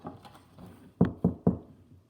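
Three distinct knocks on a castle door, evenly spaced about a quarter second apart, close and fairly loud against a quiet, faintly murmuring background.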